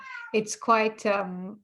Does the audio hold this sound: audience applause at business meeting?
no